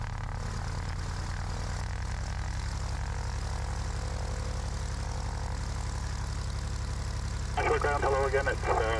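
Cirrus SR22 propeller airplane on its takeoff run from runway 12 at Oshawa, a loud steady engine and propeller drone throughout, with a brief radio voice near the end.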